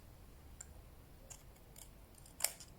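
Scissors trim the tabs of a card for a gift box with a few faint, separate snips, the last one sharper and louder, against a quiet background.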